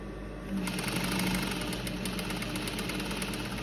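A sewing machine runs steadily while stitching fabric for a shirred, off-shoulder smocked dress, a continuous close mechanical whir with a low motor hum that picks up after the first half second and holds even.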